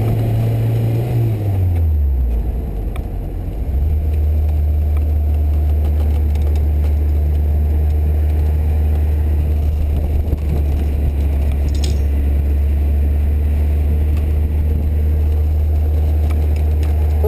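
A Lotus Elise engine on a track day, a loud steady low drone that dips in pitch early on and then holds a constant hum, heard from inside the car without any talk.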